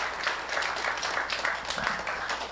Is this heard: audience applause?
yes